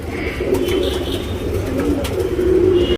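A racing pigeon coos close by in soft, low, rolling murmurs that continue steadily, with faint chirps and rustling around it and no talk.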